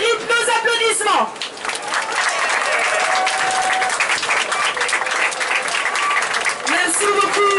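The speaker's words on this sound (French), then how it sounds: "Il mérite nos applaudissements" Loud, sustained applause and crowd noise from an audience cheering the locomotive crew at a steam railway event, dense clapping throughout with voices and some whistling or calls mixed in, near and full.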